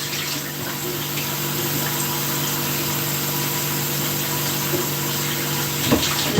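Tap water runs steadily while something is rinsed during a Saturday-morning home cleaning session, a continuous close hiss with a low hum beneath it and no talk.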